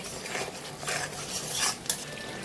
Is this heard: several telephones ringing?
no